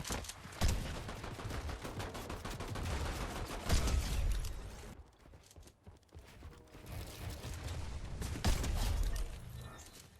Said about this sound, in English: You can tell they're bots when you hear them shooting like this.